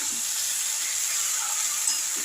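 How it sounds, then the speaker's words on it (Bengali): Cabbage, potatoes and spice paste being stirred together in a hot pan, a continuous close hiss and sizzle with soft shuffling from the mixing. "এবার ভালো করে বাটনাটাকে আর আলুটাকে বাঁধাকপির সাথে মেশাতে হবে।"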